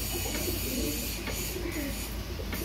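Teddy pigeons with pink eyes coo low and soft over a steady hiss of background noise, a close flock heard on its own with no talking.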